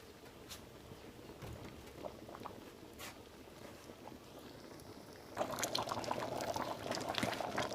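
A pot of snail curry boiling, a soft continuous bubbling and simmer that grows louder and busier toward the end.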